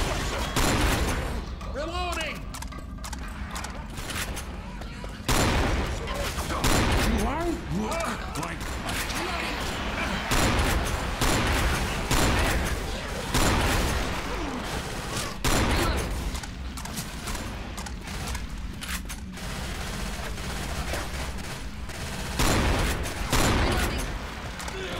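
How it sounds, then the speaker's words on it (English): Repeated shotgun blasts in the game Left 4 Dead 2, loud sharp booms with frequent shots spread across a busy game mix of clanks and zombie noise, while players talk throughout. "Okay, I'm using shotgun."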